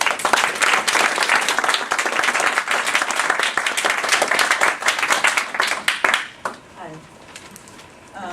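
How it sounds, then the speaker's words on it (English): An audience at a writers' conference poetry reading gives loud, sustained applause for a poet, a thick roar of clapping that stops abruptly, leaving faint room sound and a voice. "Please give her a warm welcome and applause."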